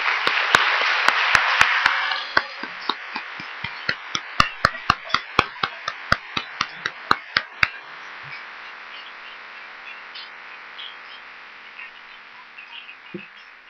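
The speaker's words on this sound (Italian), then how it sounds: "vi invito a salutarli con un applauso" A burst of clapping from a conference audience swells briefly, then thins into a few scattered claps before fading to quiet room tone.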